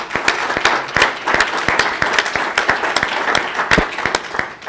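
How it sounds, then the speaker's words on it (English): A school board candidates forum in the Peoria school district draws a round of applause from the audience: dense, steady clapping with sharp individual claps, loud and sustained throughout, with no talking over it. "Let's just start with a round of applause for candidates for being here tonight."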